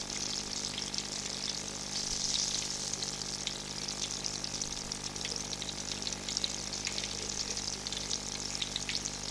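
Milkfish coated in fried-chicken flour crisps in hot oil, giving a steady, close, bright sizzle with a dense crackle that continues without a break.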